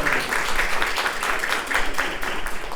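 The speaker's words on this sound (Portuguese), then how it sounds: "uma forte salva de palmas para a nossa Lara Ronise de Negreiros Pinto Cipriano" An audience applauds for Lara Ronise at a round-table session on teaching, research and extension, a steady mass of hand claps filling the whole stretch at moderate loudness.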